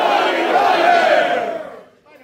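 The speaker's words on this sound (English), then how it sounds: "So now I will count up to three, and you will scream as loud as you can." A live metal concert crowd at Sala Revi in Vicálvaro, Madrid, screams the chant "Hail Jolly Roger" in a loud massed roar that holds, then fades out near the end.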